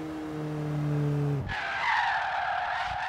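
In Forza Horizon 3, a car's engine hums briefly before its tires break into a loud, sustained skidding squeal as it drifts.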